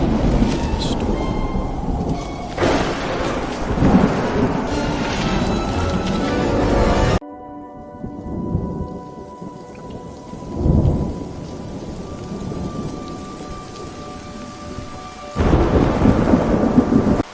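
A violent thunderstorm with heavy rain pouring down, loud rolling thunder rumbling over a constant hiss of rainfall, quieting briefly midway before the downpour and booms swell again.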